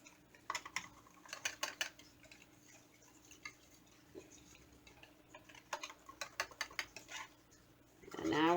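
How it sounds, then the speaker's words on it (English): Berry ganache being whisked, with clusters of quick ticking taps of the whisk against the bowl coming in bursts, moderately close. "now we're going to go ahead and whisk one more time"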